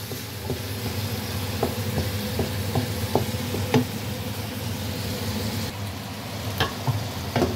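Oil sizzles steadily in a pan while magiritza cooks, with a constant frying hiss broken by light scattered clinks and stirring knocks.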